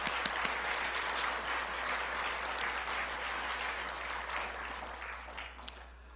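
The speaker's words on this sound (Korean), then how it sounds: "박수를 한번 해주시기 바랍니다." A church congregation applauding after the choir's hymn during a Sunday service, a continuous even roar of many hands clapping at moderate distance, lasting throughout.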